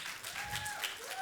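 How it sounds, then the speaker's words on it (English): Audience at an author's book tour event applauding, a continuous wash of clapping from a seated crowd with a faint tonal whistle over it, steady and moderately distant. "A big round of applause for him, please."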